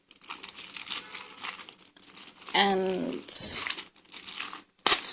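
Sheets of paper, graph paper and tea-dyed paper, crinkle and crumple in close, bursty handling, with a brief spoken word in between.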